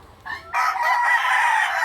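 Rooster crowing close by in a chicken coop, a short call that swells into a loud, sustained crow.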